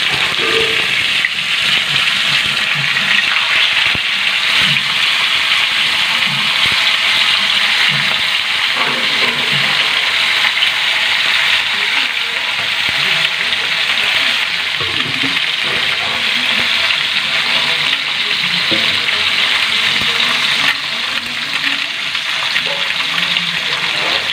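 Fish frying in hot oil in a home-style pan gives a steady, loud broadband hiss and crackle that runs continuously and close throughout, with faint low clatters beneath and no talk.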